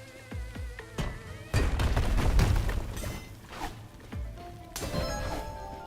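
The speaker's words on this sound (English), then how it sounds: "Bomb here." A bomb detonates in the dungeon game UnderMine 2, a sharp crashing boom landing mid-clip among lighter clicks and pickups, with softer thuds and game sound effects before and after.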